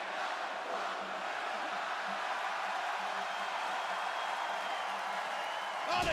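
A big wrestling arena crowd cheers and roars in a steady, continuous wall of noise, with a commentator talking faintly over it.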